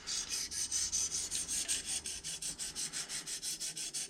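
A knife blade stroked over a DMT diamond sharpening stone held in a Magna guide, giving a steady, rhythmic series of light rasping strokes, about four per second, close by with no talk.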